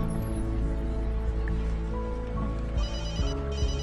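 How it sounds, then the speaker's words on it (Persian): A telephone ringing amid a dense, steady wash of background noise and hum, with no one speaking. "تلفنم داره زنگ میخوره."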